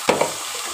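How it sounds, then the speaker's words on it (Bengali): Shrimp frying with onions in a pan, a brief close burst of sizzling with a couple of stirring scrapes near the start, then a fainter hiss. "এবার পেঁয়াজের সঙ্গে চিংড়ি মাছটাকে ভাজা ভাজা করে নেব খানিকক্ষণ।"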